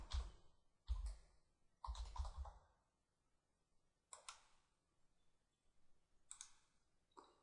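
Password being typed on a computer keyboard during a storage backup restore: several bursts of quick, close clicking keystrokes separated by short pauses, with a few isolated taps near the end.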